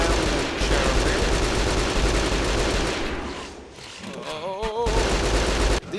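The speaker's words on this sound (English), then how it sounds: "Lots of enemies. Let's just gun them down" Sustained automatic gunfire in the video game Hunter: The Reckoning, dense and loud for several seconds, briefly dipping before resuming with scattered game effects.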